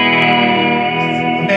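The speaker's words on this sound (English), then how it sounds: "It's a beautiful chord with reverb" A sustained surf-style electric guitar chord rings out, thick and shimmering, with a long reverb tail washing over it. No voices are heard.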